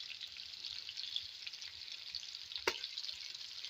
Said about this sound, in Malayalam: 2ാം പാൽ ഒഴിച്ച് കൊടുക്കാം.